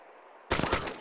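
Gunfire in the survival video game DayZ near an airfield factory erupts after a quiet half second: a sudden loud burst of several rapid shots with a sharp onset, continuing densely to the end.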